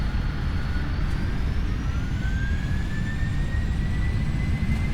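Steady, loud roar of PMDG 747 jet engines in a flight simulator game, a broad continuous rumble with faint rising whine tones during a touch-and-go landing, alone without talk.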